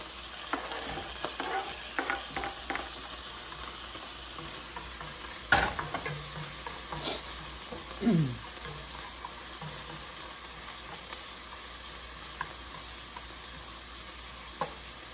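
Sautéing in a little cooking oil in a pan, a soft steady sizzle with scattered stirring scrapes and clinks, moderately quiet and close, with no talk.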